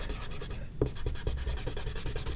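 Rubber eraser scrubbing pencil construction lines off a drawing of Jack-Jack Parr, a close, steady run of quick rhythmic rubbing strokes on paper with no talking.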